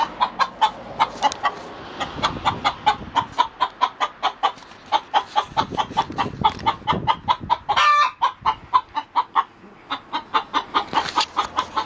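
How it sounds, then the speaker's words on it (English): An agitated chicken clucks rapidly and repeatedly in a long, insistent run of sharp, loud clucks close by, with brief louder squawks mixed in. "That's one pissed off chicken."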